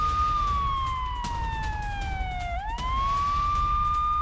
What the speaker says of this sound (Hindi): अभी सायरन बज रहे हैं और ये जो होम फ्रंट कमांड की तरफ से वो अर्ली वार्निंग सिस्टम सायरन आया